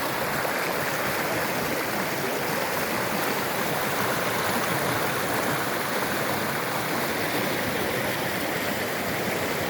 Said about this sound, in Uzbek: Mana chimyon soy.